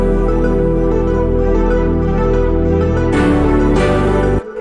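Synthwave track in which arpeggiated synths climb upward over steady bass and pads, building dense and loud, then a bright lift near the end before the mix suddenly drops away.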